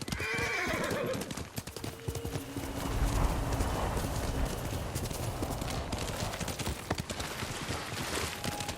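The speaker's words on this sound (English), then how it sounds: "Horse!" Horse hooves clip-clopping at a gallop with a loud whinny in Ghost of Tsushima, steady close hoofbeats over game ambience with a faint voice.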